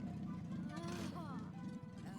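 A car engine in the video game Ni no Kuni hums with a low, steady purr at idle, fairly quiet and mostly under people talking.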